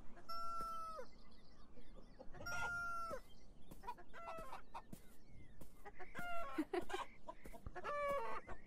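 Video game chickens cluck and squawk repeatedly with bright, slightly synthetic tones, several birds overlapping in an irregular barnyard chorus with a steady low background.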